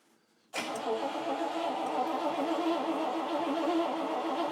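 A car engine on a drag project build turns over and fires abruptly after a quiet moment, then settles into a steady, close, loud running rumble with no voices over it.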